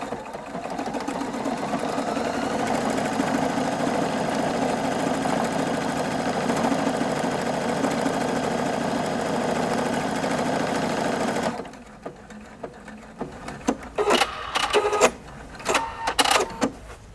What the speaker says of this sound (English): And when I'm ready to go, I can just start sewing.